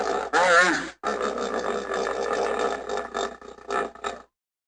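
A hippo lets out a loud, close, guttural grunting call: one short burst, then a longer, wavering, rumbling stretch that breaks into a few choppy grunts before stopping.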